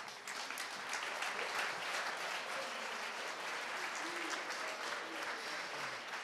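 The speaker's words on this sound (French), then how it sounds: "que je vous demande d'applaudir." A hall audience at an IT student trophy ceremony applauds as a regional council vice-president is called up. The clapping is sustained and fairly distant, with a faint murmur of voices under it.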